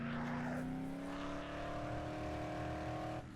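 Car engine from the video game Dead Island Definitive Edition, a steady droning hum that rises slightly in pitch as the vehicle keeps driving, heard close and alone before cutting off abruptly near the end.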